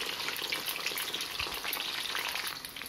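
Potato finger chips deep-fry in hot oil as French fries, a dense, loud, even bubbling hiss with fine crackles throughout and no other sounds.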